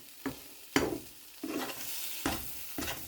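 Peas cooking in a pan, with a quiet sizzle and several distinct stirring or shaking bursts recurring at a steady pace, close and fairly faint, with no voices.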